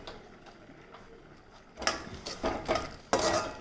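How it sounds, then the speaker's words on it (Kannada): Bisi bele bath powder and tamarind being fried in a pan, with faint scraping at first and then several louder clattering stirring bursts close by. "ಈಗ ಬಿಸಿಬೇಳೆಬಾತ್ ಹಾಕ್ಕೊಂಡು ಇದನ್ನು ಫ್ರೈ ಮಾಡ್ತಾಯಿದ್ದೀನಿ."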